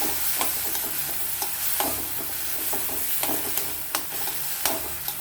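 A small amount of onion sautés in a pan for kara chutney, a steady close sizzle with regular spatula scrapes and stirring taps running throughout.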